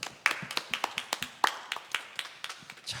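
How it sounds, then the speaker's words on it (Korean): Members of a Korean church congregation clap in an uneven, steady patter of sharp hand claps during a worship service, close and moderately loud. "하나님 아버지께 큰 박수로 영광을 올려드리겠습니다"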